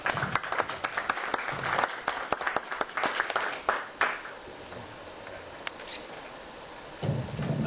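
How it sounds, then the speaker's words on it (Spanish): An audience at a university event greets a moderator with applause, a burst of sharp, close claps that thins out after about four seconds into a quiet room murmur before a faint stir near the end. "recibamos con un fuerte aplauso"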